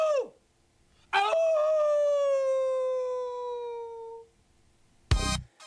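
A wolf, or a dog howling like one, gives a sustained, wavering howl that slowly falls in pitch and fades out, with a short whine just before it and a sharp exclamation right after.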